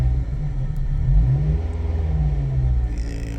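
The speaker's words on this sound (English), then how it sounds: "Now that we got the engine started, let's go ahead and shut it off." 2005 Ford Focus ST engine with running problems, idling roughly and then revving up briefly with a deep, loud, close rumble before settling again.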